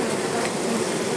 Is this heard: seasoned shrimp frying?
no